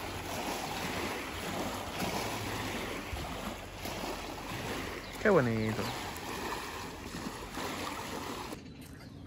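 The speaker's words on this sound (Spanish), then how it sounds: "Están llegando olas." Waves roll in on Lake Atitlan as a constant wash of water and gusty wind noise, while a person briefly speaks midway through.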